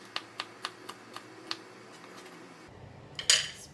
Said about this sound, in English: the chili, I'm going to cut it into a thin, just smaller pieces